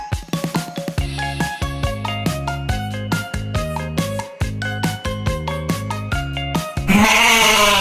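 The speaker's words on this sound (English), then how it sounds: "Goat" After a bouncy melodic tune with plucked notes, a single goat lets out a loud, wavering bleat at the very end, close and clear.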